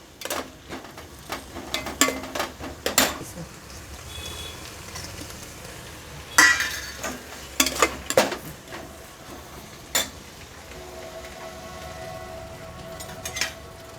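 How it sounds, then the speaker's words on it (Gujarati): Corn mixture stirred in a pan over a full flame for a Chatpata Corn Bowl, with intermittent clinks and scrapes of a spoon against the pan at close range over a low steady background. "ફૂલ ગેસે જ હલાવવાનું કારણ કે આપણે ચડાવવાનું નથી ખાલી અને મિક્સ જ કરવાનું છે"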